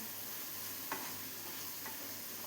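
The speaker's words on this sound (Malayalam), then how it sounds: "ഇനി ഈ സവാള എല്ലാം ഒന്ന് ട്രാൻസ്പെറൻ്റായി വരുന്നവരെ ഒന്ന് വഴറ്റി കൊടുക്കാം." Sliced onions sauté in a pan until translucent for curd rice, giving a soft, quiet sizzle with a few faint scrapes from stirring.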